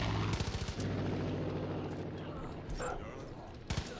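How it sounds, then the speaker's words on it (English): Gunfire in Far Cry 5, a loud burst of rapid shots up front followed by a continuing rumble with another sharp report near the end, under occasional talk. "What are you shooting at?"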